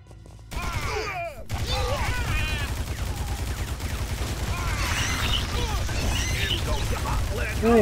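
Explosions and rapid gunfire in a video game: dense, continuous bursts of shots and blasts over a constant loud low rumble, with a voice talking underneath at points throughout.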